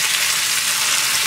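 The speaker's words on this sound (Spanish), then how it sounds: "y se pueda ir friendo el solito" Salvadoran-style fried chicken sizzles in a pan, a steady close hiss of hot oil with no breaks and no voices over it.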